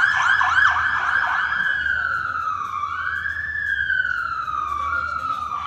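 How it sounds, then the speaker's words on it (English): A wailing siren sweeps up and down as an ambulance passes, fairly loud, with traffic rumble underneath. "as this very foreign-sounding ambulance goes by."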